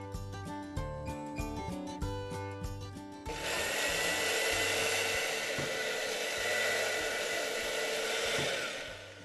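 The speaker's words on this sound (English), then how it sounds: "Now, you need to liquidize it." A blender liquidizes simmered sweet potato broth, starting after a few seconds as a loud, steady whirring roar that runs to the end, with music playing before and faintly beneath it.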